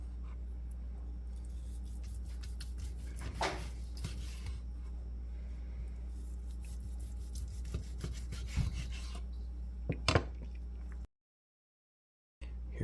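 A knife slices through a smoked ALDI beef brisket flat, producing soft, intermittent rubbing and rasping strokes close by over a low steady hum, then briefly cutting to silence.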